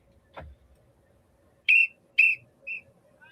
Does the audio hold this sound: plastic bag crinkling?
no